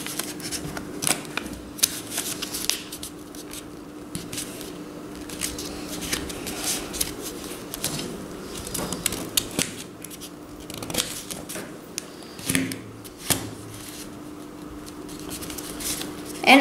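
Paper folded and creased by hand while building a rocket craft, a steady run of soft rustles, scrapes and sharp crinkles close to the mic, with occasional firmer pressing sounds and no talking.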